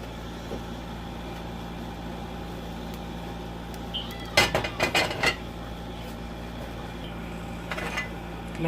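Cooking oil is spread around a frying pan for pancakes, with a short burst of close metallic scraping and clatter midway over a constant low kitchen hum.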